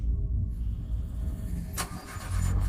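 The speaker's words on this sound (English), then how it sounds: "That damn car wouldn't start, even though it was almost new." Nearly new car engine cranking repeatedly without catching, a low chugging starter rumble with a brief clatter midway, close and loud, as a horror-story sound effect.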